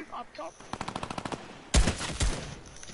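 Rapid automatic gunfire from a shooter video game, a quick burst of evenly spaced shots followed by a couple of louder, heavier blasts, close and punchy with a voice talking over it.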